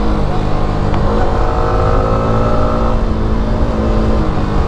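A Yamaha R15M motorcycle's engine drones steadily at high revs under throttle on a mountain road ride, a loud continuous buzzing roar close by with slight rises in pitch.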